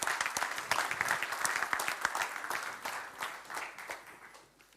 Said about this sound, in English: could we welcome to the stage with a round of applause Chris Heron and Adina Georgescu, please.